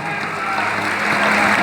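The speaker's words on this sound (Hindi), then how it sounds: "हमारे धर्म के लिए एक बार जोरदार तालियां बजाएं" An audience at a devotional bhajan program claps in a loud, dense wash of applause that swells steadily through a short burst.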